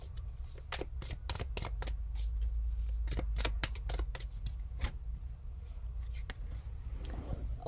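Tarot cards are shuffled close by in a quick run of crisp riffling flicks and slaps, quiet overall with no talking.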